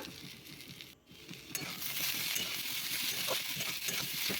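Chopped green chillies and tomato fry in a pan, a steady crackling sizzle that swells after a brief pause and continues at full strength, with faint scraping of a utensil.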